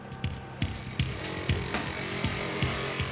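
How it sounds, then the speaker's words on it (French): Firefighters cut through car bodywork with a small saw while freeing a trapped passenger after a crash, giving a steady gritty cutting drone broken by about eight evenly spaced sharp bites, close and loud. "ils découpent la carrosserie avec cette petite scie et une pince hydraulique"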